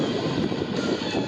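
An Extra aerobatic airplane's engine roars as a steady, loud, broad drone during an airshow routine at the CenterPoint Energy Dayton Airshow.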